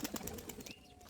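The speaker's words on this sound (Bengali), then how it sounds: "তো পায়রাগুলো এখন উপরে উঠছে।" Giribaz high-flyer pigeons released by hand and flying upward: a few quick wing flaps at the start, then faint cooing and chirps, quiet and close, with no talk.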